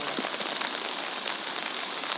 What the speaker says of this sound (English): Now as you see, it's really raining.